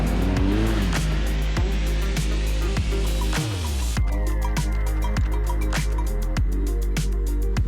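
BMW GS 1250 motorcycle riding off-road on gravel trails in Albania's mountainous backcountry, a loud close engine rising and falling in pitch through repeated revs and gear shifts.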